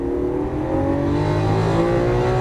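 A Lamborghini Aventador engine pulls hard on a Las Vegas race track, a loud, continuous roar with rising harmonic tones as it accelerates out of a corner, close and steady throughout.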